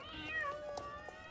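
A cartoonish cat meows twice in the Star Stable video game during a Halloween event, clear but soft against a faint tonal game soundtrack.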